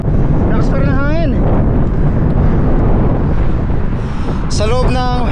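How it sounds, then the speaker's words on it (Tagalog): Strong wind buffets the microphone in a constant heavy roar during a bicycle ride, with a person speaking briefly at the start and again near the end. "Lakas pa rin ang hangin."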